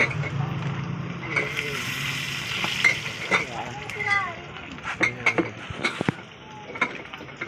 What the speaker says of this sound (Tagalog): Mga idol, nasunog na yung piniprito natin.